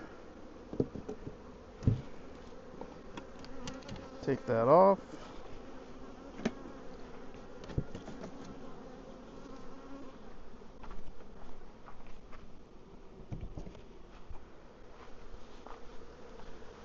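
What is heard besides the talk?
bees buzzing around a hive feeder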